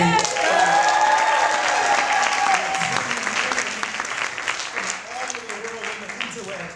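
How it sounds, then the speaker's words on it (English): Loud audience applause at a poetry slam, with clapping and some cheering filling the room, gradually thinning out toward the end. "Let's shout them out and give them a round of applause."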